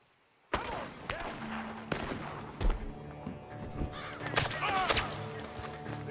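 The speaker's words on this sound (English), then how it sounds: "The gunshots are coming from that barn." Gunfire from inside a barn in Red Dead Redemption 2 rings out as several sharp, spaced cracks, some loud and near, mixed with crow caws and other game sounds.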